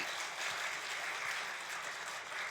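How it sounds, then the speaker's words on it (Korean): A church congregation claps in encouragement for its elders, a faint, steady patter of many hands heard from a distance, continuous and without voices. "우리 장로님들 격려의 박수 한번 해드리세요."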